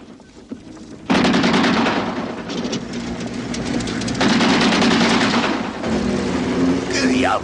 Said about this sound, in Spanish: Quizás sean disparos de aviso, señor.